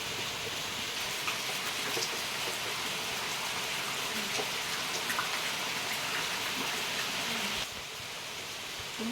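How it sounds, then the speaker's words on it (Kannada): Heavy monsoon rain falls steadily, a dense continuous hiss of drops with occasional louder patters. "ಬೆಳಗ್ಗೆನೂ ಸಖತ್ ಮಳೆ ಹೊಡಿತಾನೇ ಇದೆ"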